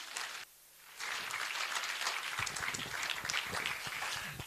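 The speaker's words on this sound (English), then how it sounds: "So shall everybody clap their hands for Mr." An audience at a graduation ceremony bursts into clapping after a brief pause. The applause is dense and steady, moderately loud, and keeps going to the end.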